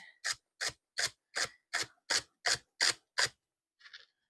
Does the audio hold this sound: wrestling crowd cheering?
no